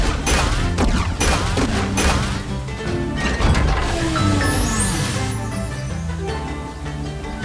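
A turret firing in the video game Skylanders Spyro's Adventure, dense loud bursts of blasts, crashes and impacts running continuously with game music, no talk.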